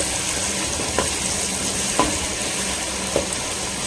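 Tomatoes, cashews and garam masala fry in hot oil for a mutton biryani, a steady close sizzle with a few soft stirring knocks at regular intervals.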